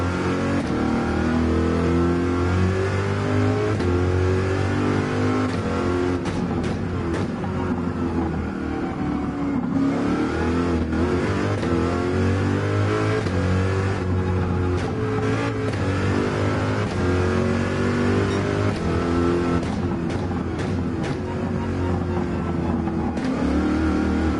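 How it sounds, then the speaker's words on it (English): Ferrari 458 flat-plane crank engine in Gran Turismo 7 Gr.3 racing, a loud, continuous high-revving wail that rises and falls through gear changes and throttle lifts for the whole stretch, with no talking. "the Ferrari 458 has a flat plane crank engine, and that crankshaft is part of the reason why it sounds so amazing and why you can really rev it out"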